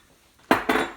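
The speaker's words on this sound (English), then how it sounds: "I'm going to mix the mayo and the milk" Mayonnaise and milk are stirred into flour in a bowl, with two quick scraping clinks of a utensil against the bowl after a brief near-silence, close and sharp.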